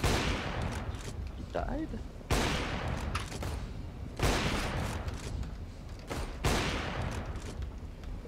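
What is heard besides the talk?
gunfire in the video game CS:GO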